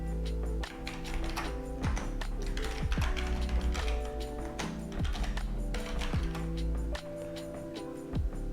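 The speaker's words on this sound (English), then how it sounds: "So let me just type that in." Computer keyboard typing, a steady run of close, loud clicking keystrokes with brief pauses and a constant background hum.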